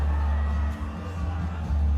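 A healthy crowd cheers and whoops at a bullwhip event in a ring, a steady, roaring wash of voices with scattered yells throughout.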